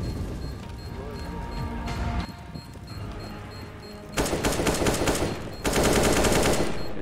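Gunfire in a Counter-Strike match, with sustained rapid bursts growing louder in the second half, under excited talk from players.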